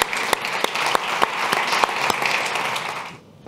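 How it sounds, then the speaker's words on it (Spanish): Audience applause fills a hall at a presentation of a Spanish digital economy report: steady, dense clapping from a crowd, held for about three seconds before cutting off abruptly into quiet. "por favor un aplauso para ellos"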